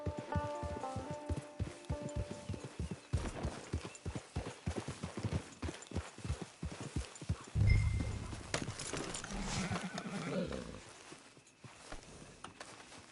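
Horse hooves clip-clop at a steady walking rhythm in a video game, close and distinct, with brief jingling tack and a soft whinny-like swell midway before the steps fade.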